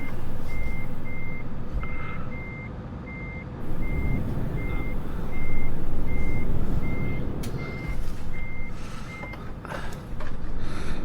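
A truck in the Euro Truck Simulator 2 video game runs with a steady low engine drone while a regular reversing beep pulses over it, with a brief hiss partway through.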